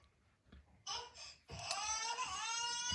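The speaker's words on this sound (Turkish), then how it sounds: "Ama bu ağlama sesi hala geçmedi." A toy makes a crying sound: a whimpering start that breaks into a steady, loud, high wailing cry, close and continuous to the end.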